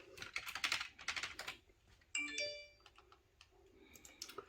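A password is typed on a computer keyboard in quick bursts of soft clicking keystrokes, with a short electronic chime partway through, quiet and close with no talk.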